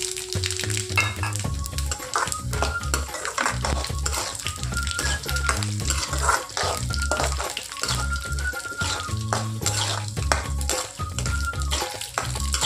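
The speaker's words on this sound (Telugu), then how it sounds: "పల్లీలు కొంచెం గోల్డ్ కలర్ వచ్చేదాక గోలుతానే ఫ్రెండ్స్" Peanuts and seasoning seeds fry and crackle in a pan with oil for a semiya upma breakfast, a steady close sizzle with scattered pops and stirring scrapes running the whole time, no talk.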